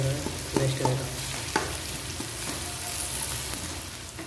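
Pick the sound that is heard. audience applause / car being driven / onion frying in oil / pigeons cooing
onion frying in oil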